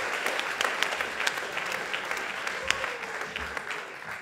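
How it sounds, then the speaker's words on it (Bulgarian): A comedy roast audience claps steadily, a dense patter of applause that holds at an even level throughout, with a voice faintly underneath. "дайте ни аплодисменти за първия ростен таз"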